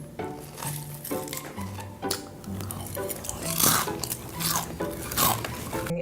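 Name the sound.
loud chewing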